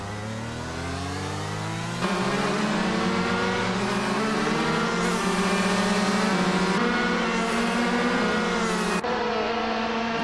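Race cars, including a 2012 shifter kart, roar around a track in a racing game, loud engines revving and rising in pitch through gear changes, several cars overlapping continuously.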